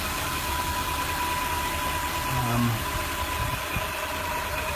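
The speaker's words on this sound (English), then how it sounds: "the starter motor seems to be straining, and a funny noise coming from the starter motor once in a while" A Ford ZF Fairlane engine with a straining starter motor runs in a steady, dense drone with a faint whine threaded through it, loud and continuous with no pauses.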